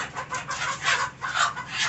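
Chickens cluck in a farm coop during freezing weather, a close, busy chatter of several birds in overlapping bursts that rise and fall without pause.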